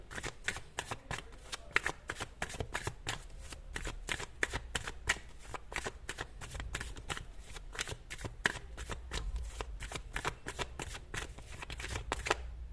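Tarot cards shuffle at close range in steady, rapid riffling flutters, soft and continuous across the whole stretch with no talking.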